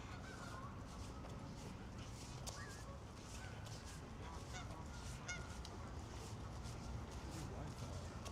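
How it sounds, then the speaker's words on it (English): Repeated honks from a Canada goose ring out at an urban park lake in Los Angeles, moderately distant and intermittent over steady outdoor ambience, with voices murmuring underneath. "Don't let anybody know about that Canadian goose."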